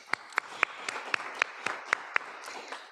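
At a zero-emission vehicle workshop, a small audience claps sparsely. About ten distinct, evenly spaced claps sound fairly near and quiet over a low room hum.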